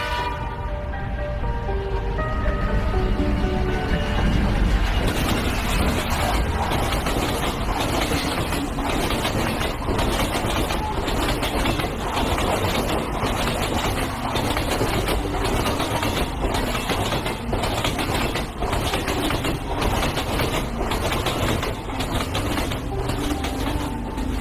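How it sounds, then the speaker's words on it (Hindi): A train rolls past a station without stopping, opening with a long horn blast, then a steady loud clatter of wheels over rail joints that continues in a rapid regular rhythm. "किसी ट्रेन की आवाज सुनाई दे रही है"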